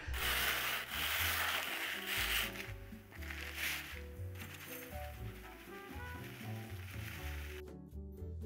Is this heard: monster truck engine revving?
no